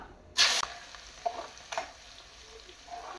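Sliced onions drop into hot oil with caraway, bay leaf and cinnamon, giving a loud hissing sizzle at first, then softer stirring scrapes and crackles close by.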